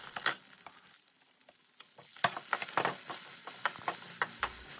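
Spices and grated coconut fry in a pan for holige sambar, giving a steady close sizzle broken by sharp crackles and stirring scrapes, with no one talking.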